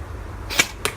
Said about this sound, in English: So I'm gonna shoot my airsoft gun right here.